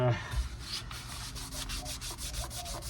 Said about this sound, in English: when I use these higher grit, these finer grit sanding discs